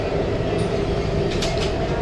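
A Namo Bharat rapid rail train running at 135 km/h, heard from on board as a steady, even rumble and rush of noise that continues without a break.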